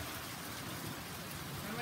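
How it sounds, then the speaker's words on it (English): Steady rain pours outside onto a street, a dense, even hiss of drops that stays constant from start to finish. "Check out the rain."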